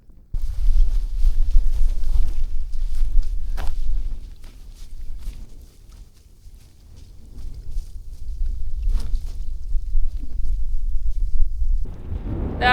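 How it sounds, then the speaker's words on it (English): Steady low rumble of wind buffeting outdoors at a remote mountain lake, gusting strong then easing midway before picking up again, with occasional light knocks. "it's also a little bit windy out here"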